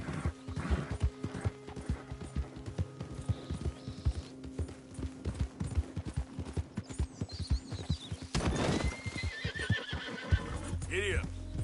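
A horse in Red Dead Redemption 2 gallops with rhythmic hoofbeats, then gives a loud whinny near the end, with a voice speaking occasionally over the hooves and game ambience.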